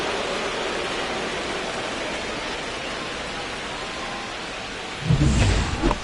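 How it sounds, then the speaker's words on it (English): Steady hiss of heavy rain during a ballpark game in MLB The Show 25, constant and close, broken near the end by a deep rumbling thunderclap. "It feels like we might be headed towards a rain delay if the weather doesn't ease up, Chris."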